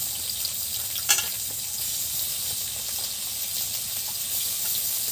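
Finely chopped onions hit a hot frying pan for a garlic potato dish, giving a steady, close sizzling hiss that holds throughout, with one brief clatter near the start and no talk.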